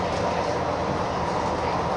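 A train rumbling steadily along the rails, a dense continuous roar close by with no talking.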